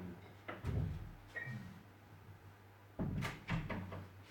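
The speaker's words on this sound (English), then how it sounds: "shut this door" Two soft knocks of a door being pushed shut, a pause, then another pair of muted thuds, quiet and close.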